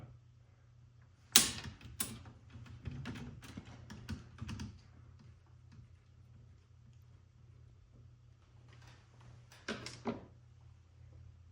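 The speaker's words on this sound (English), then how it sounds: "Now remove this screw." A screw being removed from a Remington Model Ten Noiseless typewriter, heard as quiet, scattered metallic clicks, creaks and small ratcheting ticks, with a few sharper snaps near the start and again near the end and no talking.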